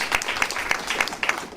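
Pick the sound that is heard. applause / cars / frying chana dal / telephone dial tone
applause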